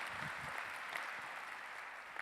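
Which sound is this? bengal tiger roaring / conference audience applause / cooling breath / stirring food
conference audience applause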